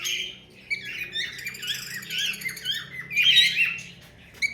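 Pet lovebirds, blue pastel splitino pairs kept for sale, chirp and squawk close by in a continuous, busy stream of shrill, wavering calls with no one speaking.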